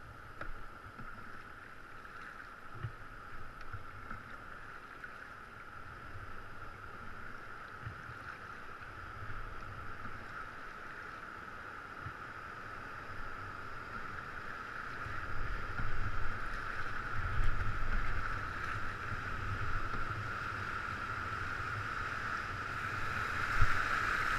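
Roaring Colorado River whitewater at Turquoise Rapid in the Grand Canyon, heard from aboard a boat: a steady broadband rush of churning water and wind, swelling louder in the second half as the boat rides through bigger waves, with no talk.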